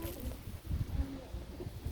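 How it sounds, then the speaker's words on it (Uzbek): Pigeons kept by a breeder in Margilan, Uzbekistan coo in soft, low, rolling bursts over a short stretch. The sound is faint and close. "Kaptarlar"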